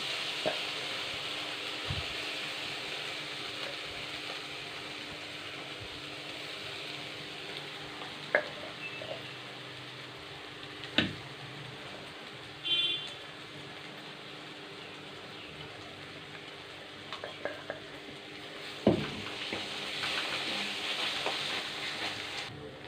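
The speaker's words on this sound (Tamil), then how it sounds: "இப்போது இஞ்சி பூண்டு பேஸ்ட்டு போட்டுக்கலாம். நல்லா வதங்கணும்." Ginger garlic paste sizzles steadily in a hot pan, a constant crackling hiss broken by a few sharp clinks of a spoon stirring.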